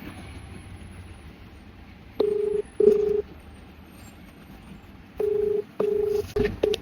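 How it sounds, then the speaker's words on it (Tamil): Telephone keypad dialing tones ring out in two clusters of steady beeps, several tones in each burst, close and clear over a quiet room background as a call is placed. "ஸோ இப்போ நான் கால் பண்றேன் திரும்ப."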